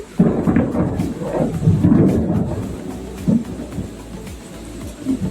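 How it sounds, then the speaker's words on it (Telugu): Thunder booms and rolls outside during a rainstorm, several deep rumbles at varying loudness over a steady patter of rain, with no speech. "ఉరుములు అసలు ఒక మాదిరిగా ఉరుముతుల బయట"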